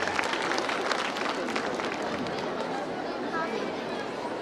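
An audience at a girls' senior secondary school Annual Day claps together, a dense, steady wash of applause that stays fairly loud and even throughout, with faint crowd murmur underneath.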